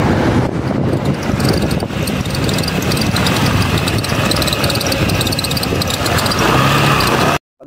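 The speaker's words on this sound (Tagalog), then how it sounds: "Pag may mga ganyan tumutunog sa motor natin ay hindi tayo napapakali." A loud, steady engine rumble from an ADV150 motorcycle with an abnormal noise runs throughout, rough and noisy with a constant mechanical drone, then cuts off abruptly at the end.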